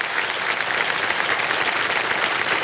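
On the KBC Season 17 game show, the studio audience applauds a contestant with loud, even, continuous clapping that holds at a constant level throughout.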